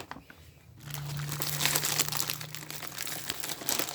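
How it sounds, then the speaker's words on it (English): Crinkly plastic MRE pouch being torn open and handled, a continuous close rustling and crunching that runs steadily after a brief quiet start, with a low hum underneath. "so without any further ado, let's tear it open"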